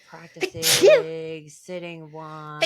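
A single loud, close sneeze bursts out during a meditation session, set among a person's calm speech before and after.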